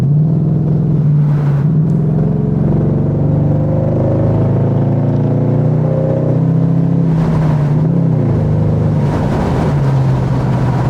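A Lexus SC 430 with power mode and throttle controller engaged drones steadily and loudly through a tunnel, windows up, its low engine rumble swelling with throttle and echoing off the walls.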